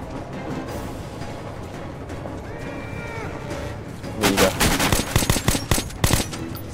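Automatic gunfire in the video game Metro: Last Light, a loud burst of rapid shots rattling out near the end after a stretch of quieter ambience and muffled activity.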